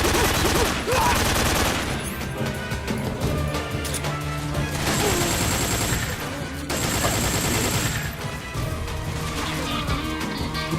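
Gunfire in Metal Gear Solid 3, sounding as dense bursts of shots and crashes across the clip, loud and near, layered over game music and effects.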